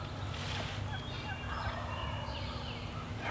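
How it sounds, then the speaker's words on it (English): A wild turkey gobbles faintly in the distance during a morning hunt in woodland, a brief call buried in steady outdoor background noise. "There's another gobble."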